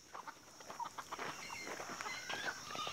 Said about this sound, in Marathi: कोंबड्या मेथीचा पाला खूप चांगल्या पद्धतीनं खातात